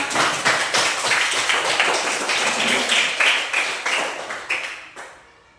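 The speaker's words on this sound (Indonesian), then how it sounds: "Tepuk tangan untuk semua." A group of people clap together in applause for everyone, with quick rhythmic hand claps that stay lively for several seconds and then fade out.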